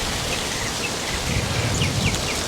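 Rain from a passing front falls steadily around a porch where a honeybee swarm is clustered, a continuous wash of drops with a faint insect hum threading through it, close and even throughout.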